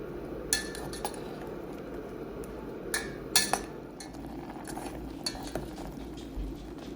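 A spoon stirs rehydrated chicken madras in a camping pot on an MSR stove, scattered metallic clinks and scrapes over a soft steady bubbling hiss, close and fairly quiet, no voices.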